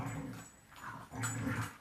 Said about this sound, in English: my dogs are wrestling crazy